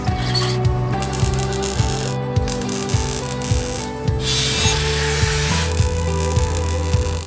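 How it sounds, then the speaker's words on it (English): A power drill bores into a part in a garage workshop on a Porsche truck build, with repeated short bursts of whirring and ratcheting clicks at a fairly regular pace, loud and close. "Just drill it right in there."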